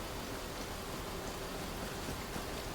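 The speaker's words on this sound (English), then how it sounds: "it rains a lot in this town" Steady rain falls over a town in the video game Enshrouded, an even, soft hiss of constant noise with no distinct drops or other sounds, and no talking.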